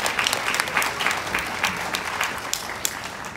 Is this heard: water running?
no